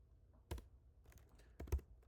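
Quiet keyboard typing while writing Python code: a few soft, close key clicks in two small bursts, with near silence between them.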